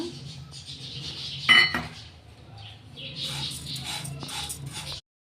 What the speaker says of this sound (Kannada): ಅದೇ ಬಾಣಲಿಗೆ ಒಂದು ಕಪ್ ಆಗುವಷ್ಟು ಅವಲಕ್ಕಿ ತೊಗೊಂಡಿದ್ದೀನಿ ಇವು ಸಹ ಉರಿಯೋಣೀಗ